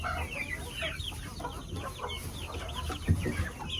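Backyard chickens cluck steadily in a dense flock, many overlapping calls close by with a brief louder squawk near the end and no talking.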